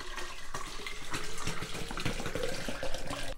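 A whole jug of watermelon juice poured into a mocktail mix of lime juice and sugar water, a steady splashing liquid stream that runs for a few seconds, close and fairly loud with no talking.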